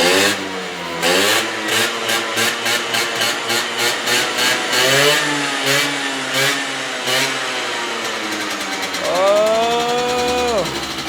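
Free, previously blown-up scooter engine running without cooling shrouds while leaking fuel, idling with a choppy rhythm and revving up several times, the pitch rising and falling in loud surges, with a final high whine near the end.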